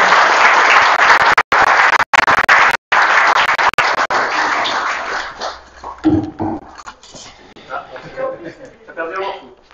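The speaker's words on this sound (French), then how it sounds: "On peut applaudir." A crowd breaks into dense, steady applause at a French product presentation of the Slim 400 compact telescope, the clapping broken by a few brief drops before fading out under a voice.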